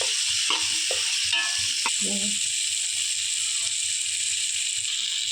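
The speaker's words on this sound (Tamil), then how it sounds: "போட்டு நல்லா வதக்கிக்கலாம் 2 நிமிஷம்" Coconut, onion, tomato, ginger and garlic sautéing in oil for a village-style Kongu eggplant dish, a continuous hiss of frying with a few spoon clinks and rhythmic low thumps beneath, close up with no talk.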